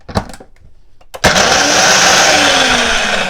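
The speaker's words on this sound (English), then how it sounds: "we're gonna mix this up really well, blend it, and we're gonna meet back on the other side" Blender mixing a coffee milkshake: a few faint clicks and knocks, then the motor kicks on abruptly and runs with a steady, loud, whirring drone that continues to the end.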